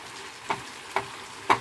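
Chayote stir-fry with green onion sizzles softly in a frying pan while a spatula stirs it, giving three distinct scraping strokes over a steady low fry.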